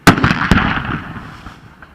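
A field artillery battery fires a cannon shot for a July 4th salute, a loud close blast with a quick secondary crack, then a long rumbling echo that fades out.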